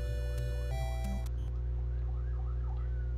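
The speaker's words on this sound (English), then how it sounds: "Let me wait for the siren to pass." Police car siren passing: loud repeating electronic wails and chirps at first, which cut off after about a second and a half, leaving a low steady hum.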